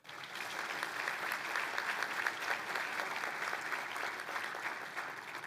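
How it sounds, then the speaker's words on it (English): Sustained applause from a fraternity's final banquet audience, a dense, even roar of many hands clapping at moderate distance with no break, beginning abruptly. "Yes, go ahead and applaud."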